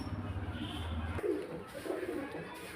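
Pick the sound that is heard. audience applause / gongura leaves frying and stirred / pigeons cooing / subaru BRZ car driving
pigeons cooing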